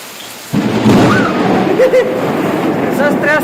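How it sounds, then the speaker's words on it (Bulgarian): A sudden thunderclap breaks into a broad rumble as a hailstorm pours down outdoors in Bulgaria, a heavy, loud wash of storm noise with a few voices faintly audible underneath. "Я виж каква градушка запука"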